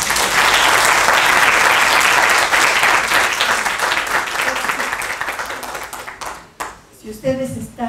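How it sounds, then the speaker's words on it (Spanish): A seated audience claps loudly for three panel speakers at a science talk on electoral technology, the applause thinning and fading after about six seconds as a voice begins speaking. "por favor, un aplauso para los 3 ponentes"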